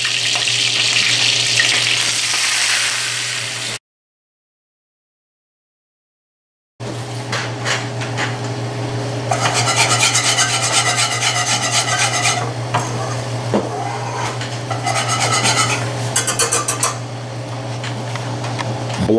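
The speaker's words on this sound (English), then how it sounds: "making a quick roux here. Equal parts of flour and butter." Flour and butter cook into a blonde roux in a pan for a lobster bisque. Close, loud hissing sizzles with rasping scrapes and stirs, broken by a few seconds of silence before the scraping picks up again.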